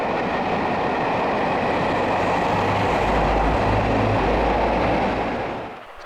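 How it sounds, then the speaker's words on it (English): Steam locomotive 34052 Lord Dowding heads a rail tour, with diesel 47802 on the rear, passing close by as a loud, steady rumble of rolling wheels and carriages that fades at the end. "34052 Lord Dowding, working in top and tail with 47802, passes by at the head of the 9:43 a.m. London Victoria to Bristol rail tour"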